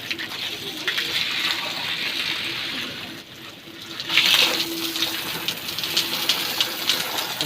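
Water from a pipe fed by a solar 12V DC water pump drawing from a 40-foot bore, gushing in a loud steady outdoor rush that briefly dips and then surges back with splashing.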